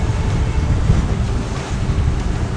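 Steady wind rushing and water washing past the hull of a sailboat sailing close-hauled on a calm lagoon in the Exumas, a loud, continuous noisy roar with no voices.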